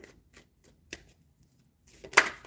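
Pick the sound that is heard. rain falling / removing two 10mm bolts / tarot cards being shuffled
tarot cards being shuffled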